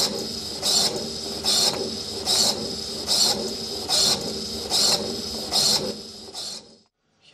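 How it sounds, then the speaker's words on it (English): The electronic drawing arm of a Meccanograph works in a regular cycle, with a continuous mechanical whir overlaid by about eight evenly spaced, brighter clicking bursts close by, and then the motion stops. "Here you'll see the drawing arm in action, coming in."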